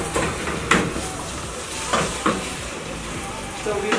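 Mboga greens are stirred and crushed in a hot frying pan, giving continuous sizzling and hissing with a few distinct scraping knocks of a utensil against the pan, and no talk over it.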